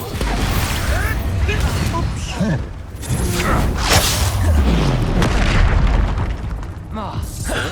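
Repeated Expulso spell blasts in the Hogwarts Legacy video game, booming explosions and whooshing bursts rolling one after another over continuous combat noise, with a voice heard over the din.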